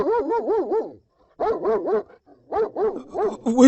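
A dog barks in three bursts of rapid repeated barks with short pauses between them, loud and near, with no talking over it.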